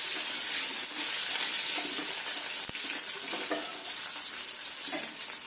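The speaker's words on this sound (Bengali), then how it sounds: "এখন আমি আলুটা দিয়ে ভাজা ভাজা করে নেব।" Potatoes fry and are stirred in a pan for a stinging catfish (shing fish) curry over a radhuni seed tempering, giving a steady, close sizzle with scraping stirs throughout.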